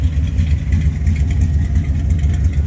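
A 1971 Dodge Demon with a 3-inch exhaust and a header exhaust leak idles close by, a steady deep low rumble that holds evenly throughout with no revving.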